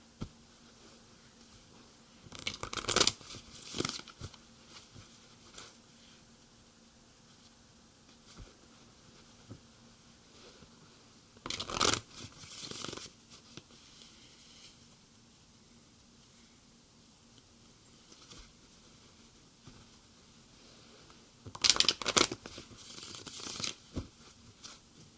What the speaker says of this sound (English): these cards are just not shuffling very well tonight